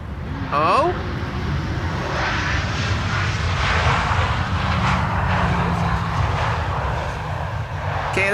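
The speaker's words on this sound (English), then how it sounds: "KLM 737 using its reversers for some reason, albeit briefly." A KLM Boeing 737 lands at Amsterdam Schiphol and briefly deploys its thrust reversers, a loud sustained broadband engine roar close by, with a steady low rumble throughout.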